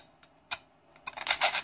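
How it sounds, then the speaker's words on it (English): Sanding an extruder base part for a Rhino 3D printer: a few quiet isolated scrapes, then a quicker burst of close, rasping strokes. "So I'm going to sand it a little."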